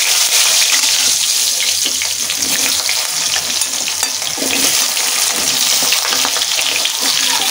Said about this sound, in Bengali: এই যে কেটে রেখেছিলাম আলু, কেটে ধুয়ে রেখেছিলাম, এখন ভেজে নেব